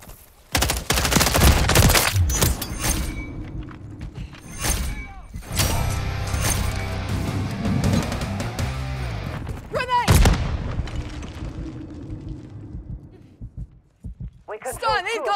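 Gunfire in the video game Call of Duty: Modern Warfare III: bursts of automatic weapon fire and scattered shots crack through a loud, busy battle soundscape, with game voice callouts heard over the shooting.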